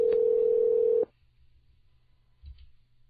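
A steady electronic tone sounds loudly for about a second as a Skype call drops, then cuts off abruptly, leaving quiet room noise and a faint low thump.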